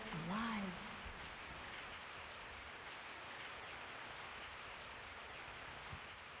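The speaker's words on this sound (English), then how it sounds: "I woke up to the sound of falling rain." Faint, steady falling rain at night from the video game Resident Evil 3, a soft continuous hiss with a brief tonal sound at the very start.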